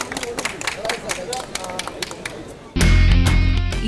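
Vijay fans gathered at a gathering clap and cheer after a police inspector's advice, a dense crowd of claps and voices that swells into a loud, sustained roar near the end.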